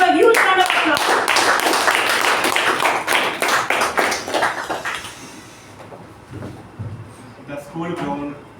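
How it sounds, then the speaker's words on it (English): Audience at a Toastmasters meeting applauds a speaker, a burst of clapping that is loud at first, then thins into scattered claps and fades, with a voice speaking faintly near the end. "Let's give a huge round of applause."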